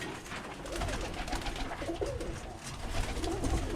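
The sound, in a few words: Birmingham roller pigeons cooing in breeder loft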